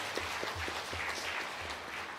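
A church congregation claps to welcome a newly registered member during a Sunday worship service. The applause is soft and distant, with a steady patter and a low hum underneath.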